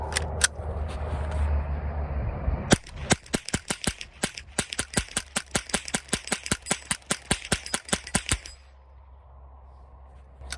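A CMMG .22 LR conversion kit fires Remington Golden Bullet rounds in a rapid semi-automatic string of roughly two dozen sharp, close cracks, bracketed by quieter handling noise before and after.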